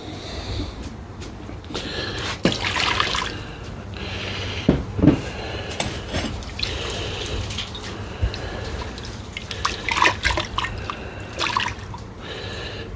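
Water is rinsed through a gold pan while separating gold from sediment, giving soft intermittent splashes, drips and trickles that swell and fade over a steady wet background, close by and moderately quiet.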